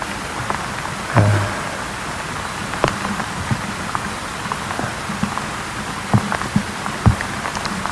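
Steady rain falls without pause, a dense hiss scattered with occasional louder drips and taps close by.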